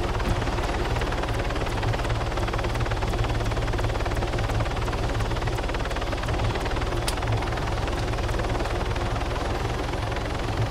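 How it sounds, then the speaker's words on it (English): An enemy helicopter in the ARMA 3 video game flies overhead, its rotor producing a steady, loud throbbing chop with a constant engine drone that lasts throughout. "Enemy heli above tower 4."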